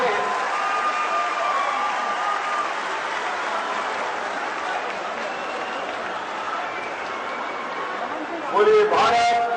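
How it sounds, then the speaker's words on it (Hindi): Sustained loud applause from a large rally crowd in Ambikapur, dense and steady throughout, with a voice rising briefly near the end. "आप लोग बहुत जोरदार तालियां बजाइए।"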